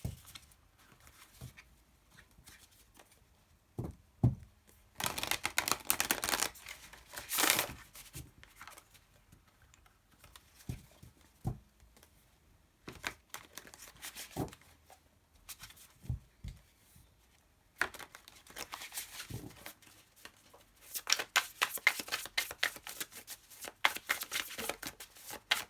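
Tarot cards being shuffled by hand in several bursts, crisp riffling and flapping close to the listener, separated by quiet pauses and soft taps as the deck is squared.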